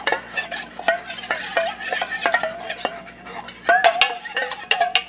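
A spoon stirs cornstarch into a cheese and tomato sauce for battered cauliflower, making loud, close, repeated scraping clinks against the pot in a quick, uneven rhythm, with no talk.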